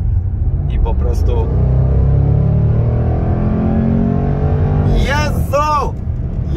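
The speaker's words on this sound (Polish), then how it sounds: "Wydech otwarty i po prostu..." Supercharged 5.0 V8 of a 2022 Jaguar F-Pace SVR with its exhaust valves open, revving hard and loud in a sustained roar, with a rising then falling rev sweep near the end.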